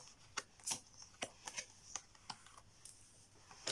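Tarot cards are shuffled and laid out on a table. About a dozen crisp, quiet card snaps and slaps come at an irregular pace, close by, with no talking.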